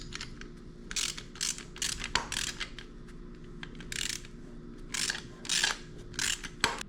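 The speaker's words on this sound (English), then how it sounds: "I'll go ahead and tighten this nut down so that this side doesn't move" Hand ratchet clicking in short repeated bursts while tightening a nut on Jeep XJ steering parts, close and fairly quiet, with brief pauses between strokes and no talking.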